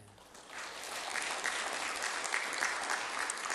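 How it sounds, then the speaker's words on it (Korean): Warm congregational applause during a Korean Presbyterian Sunday worship service, welcoming visiting church members; a soft, steady patter of many hands that builds slightly and continues throughout. "잠깐 일어나 주시면 우리 박수로 환영하시겠습니다"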